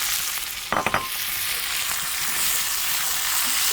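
Halved small baby potatoes hit a hot pan with a brief clattering drop, then settle into a steady, close, broadband sizzle of frying that continues evenly with no talking.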